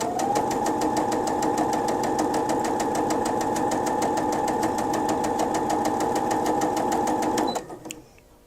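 A Brother SE 625 sewing machine stitches test seams in a loud, steady mechanical whir with a fast, regular needle clatter. The run goes unbroken for about seven seconds, then the motor cuts off abruptly and a few faint handling clicks follow.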